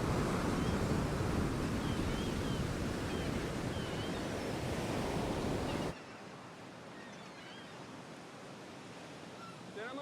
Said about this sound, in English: beholding with astonishment the high waves dashing the rocks in this immense ocean